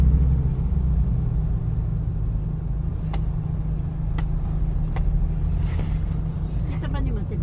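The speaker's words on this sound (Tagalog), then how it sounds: "Ang dami ng sasakyan, no? Traffic." Busy city road traffic in Cagayan de Oro, Mindanao, a steady low engine rumble of many cars passing close by, with a few sharp transient sounds on top and people talking throughout.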